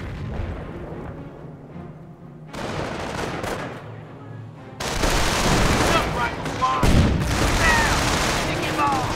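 Rapid bursts of rifle and machine-gun fire mix with heavy cannon booms in a Company of Heroes battle at Cherbourg. The battle grows denser and louder partway through, with game voices under the din.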